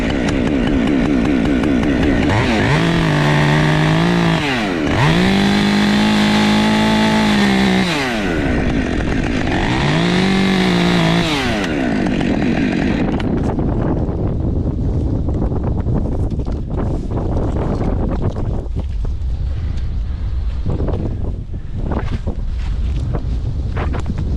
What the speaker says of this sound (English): Wow, that wind is something.